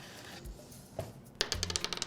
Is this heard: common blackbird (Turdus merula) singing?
no